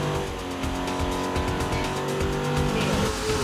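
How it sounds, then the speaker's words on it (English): A drag racing car does a tire burnout at a drag strip during a racing game show, with a loud sustained engine roar and tire squeal close by. "Boy, he's sure burning some smoke right there."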